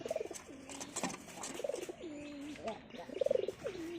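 A hunting pigeon coos close by in low rolling phrases that recur every second or so, softly and alone, with a few faint chirps behind.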